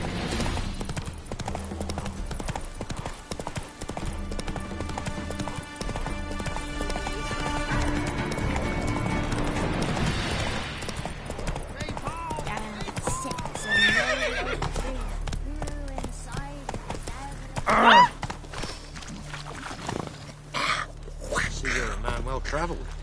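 A horse in The Witcher game gallops with steady rhythmic clip-clopping hooves and gives a sharp neigh partway through, with game voices and background music sounding alongside.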